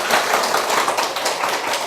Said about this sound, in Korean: 박수 한번 우리.